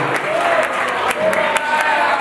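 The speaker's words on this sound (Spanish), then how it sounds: "quédate un aplausito para Fito" Applause from a live audience at a radio show broadcast from a bar, with clapping that fills the room for a couple of seconds while voices carry through the clapping.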